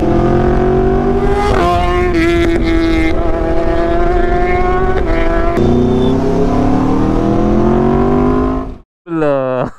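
A motorcycle engine revs hard on the throttle, its pitch climbing and holding loud and close before cutting off, then a short burst of revving.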